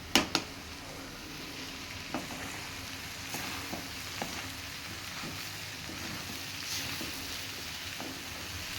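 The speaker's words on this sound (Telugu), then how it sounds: "జర హై ఫ్లేమ్లో పెట్టి కలుపుదాం" Onions fry over a high flame in a pan, a steady crackling sizzle throughout with a few sharp spatula knocks and scrapes, close and moderately loud, with no voices.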